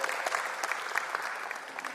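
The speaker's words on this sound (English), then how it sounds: "May we have a round of applause for our gold sponsors," Brief burst of audience applause for gold sponsors at an ESG conclave, an even patter of many hands clapping at moderate distance.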